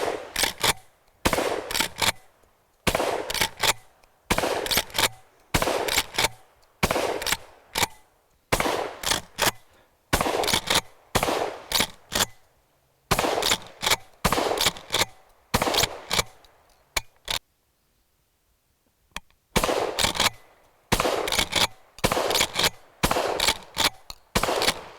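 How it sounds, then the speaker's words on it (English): A Weatherby PA-08 12 gauge pump-action shotgun being cycled repeatedly, loud sharp metallic clacks of the pump action in rapid clusters, close up, with a short quiet pause before the racking resumes. "I think you can get hearing loss just from cycling this shotgun."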